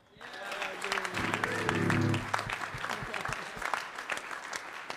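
Audience applause at an Army jazz band concert during a trombone workshop, rising in the first seconds and then continuing as a crackle of individual claps. Brief whoops and voices sound over it, and a sustained tone sits underneath midway.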